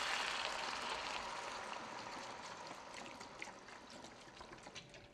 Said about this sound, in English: We're going to do 32 ounces of vegetable broth.